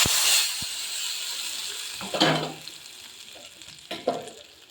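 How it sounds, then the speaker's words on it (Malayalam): Coconut oil sizzles loudly in a pan as it fries a tempering for a leafy-greens curry, with bursts of crackling, a stirring scrape and fading hiss between louder spurts. "ഇത്രയും വെളിച്ചെണ്ണ നമുക്ക് വറുത്ത് ചേർക്കാം"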